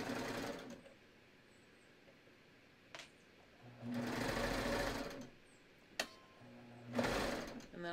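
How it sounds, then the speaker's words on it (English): A serger stitches the neckline of a tee in two or three whirring bursts, close by, separated by quieter pauses with small clicks and handling sounds. "Then I'm gonna start serging."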